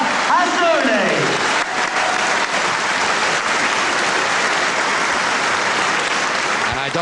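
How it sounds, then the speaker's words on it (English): Crowd at a wrestling match applauding between rounds, dense continuous clapping that stays loud and steady throughout, with a commentator speaking over it. "I doubt if the crowd will stop applauding before the start of round 6"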